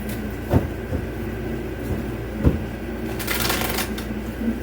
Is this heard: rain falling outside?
no